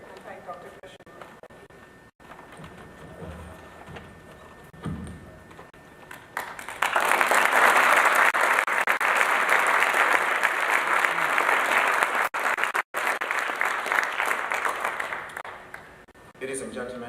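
Audience applause after an agricultural sustainability lecture, with talk at first, then a loud, sustained wave of clapping from a large hall crowd that runs for about ten seconds before fading back toward speech.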